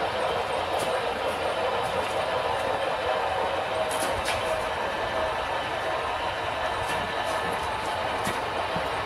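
Four model trains, including a GP9 and a Hudson locomotive, rumble along a track with a continuous rolling whir and occasional light clicks, steady and fairly close, with no voices.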